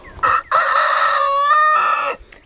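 A Barnvelder and Rhode Island cross rooster crows loudly and close by in a garden setting, one long full crow with a brief break near the start, heard alone.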